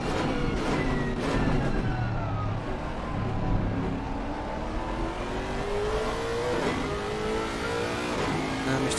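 Porsche GT3 race car engines roar in a sim racing game at Suzuka, loud and continuous, with revs rising and falling through gear changes as cars run close together.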